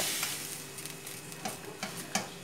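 Ground meat with spices and oregano frying in a pan, a steady soft sizzle broken by several quick stirring scrapes, fairly faint with no voices.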